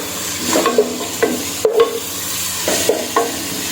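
Onions sauté in a pan for village-style chicken biryani, a soft sizzle with repeated spatula scrapes and taps at an irregular rhythm, close and alone.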